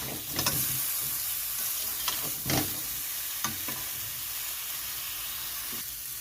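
Salted mango pieces for a homemade sweet pickle fry in a pan over low heat, giving a steady, soft sizzle broken by a few short scraping stirs near the start.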